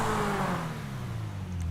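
A Pegassi Zentorno sports car engine in the video game GTA 5 revs loudly, its exhaust note sweeping down then settling into a throaty, close-up drone.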